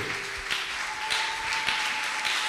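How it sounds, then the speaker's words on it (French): A church congregation applauds, a dense, moderately close burst of clapping that keeps steady for a couple of seconds, with no voice over it. "Acclamons pour la parole de Dieu."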